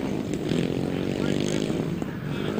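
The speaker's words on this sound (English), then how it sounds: "The revs rise, tapes fly, and there they go." Grasstrack race motorcycles rev hard together at the start of a race, a loud, dense, continuous engine roar with rising pitch, heard from nearby without speech.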